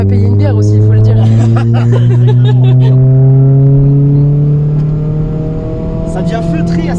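A Renault Clio 3 RS phase 2 engine revs hard and holds a steady rising drone through a long acceleration, loud and close from inside the car, easing slightly near the end as people talk over it.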